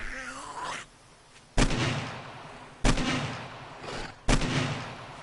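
Three loud, sharp gunshots from a firearm in the PS4 survival game 7 Days to Die, fired at slow, uneven intervals, each with a booming decay. A brief game creature groan comes before the first shot.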